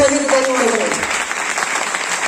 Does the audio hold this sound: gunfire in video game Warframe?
no